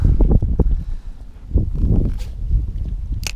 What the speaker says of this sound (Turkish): Rüzgarlı bir Denizli gününden